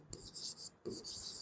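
Chalk or marker writing on a board during a class 10 maths lesson, two bursts of scratchy strokes with a short pause between, close and fairly clear with no talk over it.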